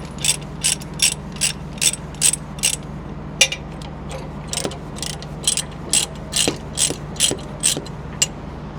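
Ratchet chain binders on a heavy-haul trailer carrying a crane being slackened, giving a loud, rhythmic series of sharp metallic clicks, roughly two per second, close by and continuing throughout with no speech.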